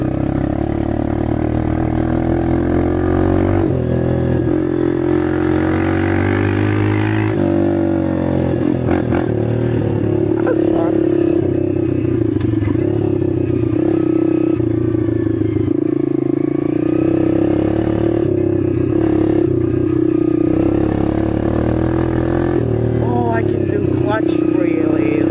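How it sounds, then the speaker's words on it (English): A small dirt bike engine drones and revs loudly and steadily while being ridden, rising and falling in pitch with clattering mechanical noise, up close throughout. "Thought I would ride the dirt bike, make a video."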